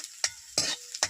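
Chopped onion is stirred in hot oil for aloo paratha, three short scraping stirs with bursts of sizzle between quiet gaps, close and fairly soft.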